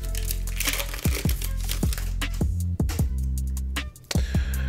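A football trading card pack is torn open and its cards handled, giving repeated crisp crinkling and crackling bursts of foil and plastic, close and fairly loud, in irregular clusters.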